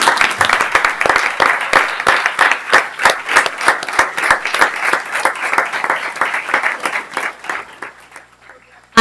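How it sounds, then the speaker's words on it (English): A standing audience at a Sacramento school district meeting applauds the 2018 Summer Youth Ambassadors, loud continuous clapping close by that fades out near the end. "let's stand and give you a round of applause, our 2018 Summer Youth Ambassadors"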